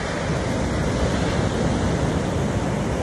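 Ocean waves wash in on a California beach as a loud, continuous broadband surf roar, with wind noise buffeting the microphone and no talk.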